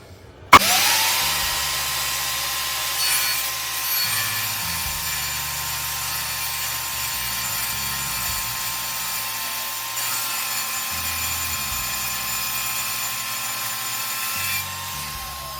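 A radial arm saw with its blade tilted to 45 degrees starts with a sharp jolt and whines steadily as it cuts a clamped piece of wood, the loud motor drone holding level throughout with small shifts as the blade bites.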